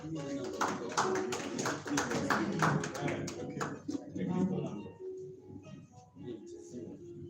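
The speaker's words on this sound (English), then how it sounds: "Big round of applause as he makes his way" Crowd applause greets a keynote speaker walking up at a Gulu City Oktoberfest event, a dense spread of clapping that holds for several seconds, then thins and fades as a voice begins talking.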